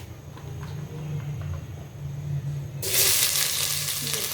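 Oil sizzles and crackles in a pan while rohu fish is cooked with gourd leaves, a steady low frying hiss that swells into a bright, loud sizzle partway through, with no talking.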